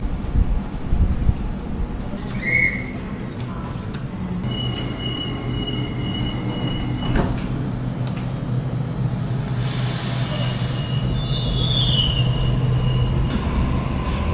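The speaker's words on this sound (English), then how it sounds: "we've got a train to Central in 1 minute from platform 9" A train rumbles steadily at a Sydney station platform, with high metallic squeals and hissing brakes rising partway through, loud and continuous.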